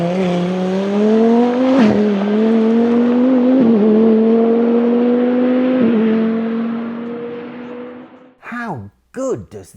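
KTM GT2 supercar lapping the Monza circuit, a loud engine note climbing through several gear changes before fading, followed by short sharp revs at the end.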